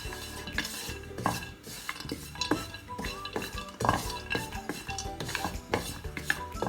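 A spoon keeps stirring grated coconut as it dry-roasts in a pan, producing rhythmic metallic scrapes and clinks against the pan, steady and close, with almost no sizzle.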